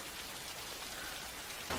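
Steady rain falls and patters on surfaces outdoors, a continuous even wash of sound that stays close and fairly loud with no voices.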